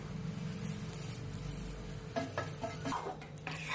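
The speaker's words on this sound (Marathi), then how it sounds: "तो आपण त्या तुपामध्ये वितळून घेऊया" Jaggery melting in ghee in a pan while being stirred, with soft scraping and clinks of the spoon against the pan over a low frying sizzle; the stirring grows busier and louder in the second half.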